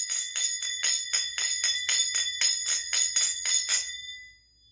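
Finger cymbals (zills) ring out in a steady running singles pattern: a bright, even series of about fourteen metallic chimes, close and clear, each with a shimmering overtone ring, alone with no voices, the last stroke fading out.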